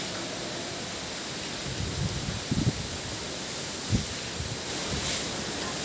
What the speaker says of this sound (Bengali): ঝড়ের সাথে বাতাস হচ্ছে।